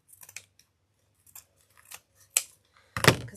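Scissors snip through basket material on a Dollar Tree egg frame wreath, a few short crisp cuts spaced apart, with a loud closing snip at the end, close and alone.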